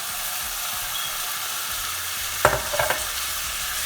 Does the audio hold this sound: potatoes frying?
yes